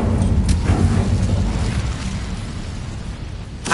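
Incendio fire spell in Hogwarts Legacy on PS5, a heavy whooshing burst of flame with a deep rumbling roar that decays over a few seconds, followed by a sharp crackle at the end.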